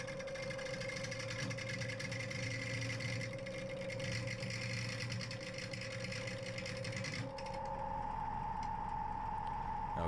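A wood lathe spins a slightly out-of-balance bowl blank at 800 RPM while a 40/40 grind bowl gouge cuts it, giving a steady mechanical whir with a sustained hum and faint scraping that shifts tone near the end.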